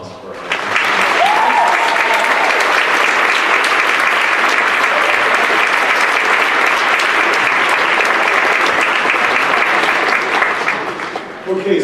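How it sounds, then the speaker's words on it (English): A large audience at a high school band awards night gives sustained applause, a loud, dense wash of clapping that swells in and holds for about ten seconds before fading. "A round of applause for our"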